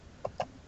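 Two quick, soft clucks from chickens in a Minecraft-style video game, evenly spaced and faint against a quiet background.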